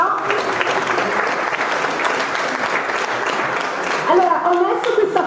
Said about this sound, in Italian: Fate un applauso a Pietro!